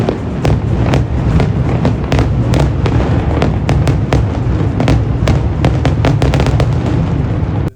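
A small birthday fireworks show close by sends out a loud, dense barrage of cracks and booms that continues without a break.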